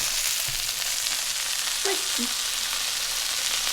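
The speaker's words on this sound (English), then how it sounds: "Meat definitely splatters more." Large beef burger patties fry in a pan, giving a steady sizzle with scattered pops and spatters of grease, close and with no voices over it.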